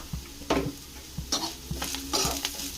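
Drumstick leaf fry being stirred in a pan: a spoon scrapes and taps the metal in a few distinct strokes over a low, steady sizzle, with no talk.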